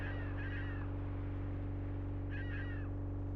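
Birds call in the fishing video game Black Bass with Blue Marlin, two short bursts of squawking cries over a steady droning game background, with no talk.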